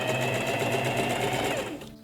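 A sewing machine runs fast and continuously while stitching a fabric hem with a hemming foot, a loud close whirring rattle that winds down at the end.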